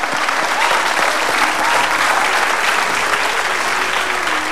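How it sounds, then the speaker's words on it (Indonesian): A studio audience claps steadily and loudly throughout, a dense, even wash of applause at a television comedy talk show. "Tepuk tangan dong."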